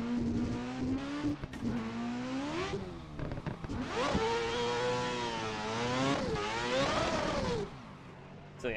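Adam LZ's 4-rotor Toyota Supra A90 pulls hard in fourth gear, its engine note rising in steep revving sweeps between quick shifts, with sharp exhaust crackles popping through, loud and close throughout.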